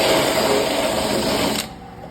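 Rasp bit spinning in a drill to grind old silicone and rubber sealant out of holes in car body sheet metal, a loud steady whirring buzz that cuts off near the end, leaving a quieter hum.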